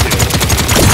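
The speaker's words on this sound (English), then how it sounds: "Enemies are firing on me." Enemy gunfire in the Paladins shooter game, a rapid burst of loud repeated shots in an even, fast rhythm.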